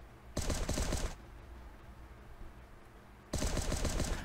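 Two loud bursts of rapid automatic gunfire in the survival video game Last Day on Earth, each lasting under a second, separated by a few seconds of quiet background ambience.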